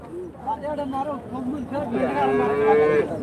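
Cattle, including HF and Jersey cows and calves, moo at a Sunday livestock market in Santhipuram, Andhra Pradesh, with a long drawn-out low call rising above crowd chatter and nearby voices.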